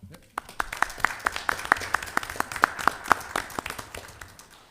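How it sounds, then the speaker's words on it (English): Audience at a city Board of Aldermen meeting clapping for a scout troop, a short round of brisk, evenly spaced claps from a small room crowd, with a voice talking underneath. "We're going to give y'all a round of applause."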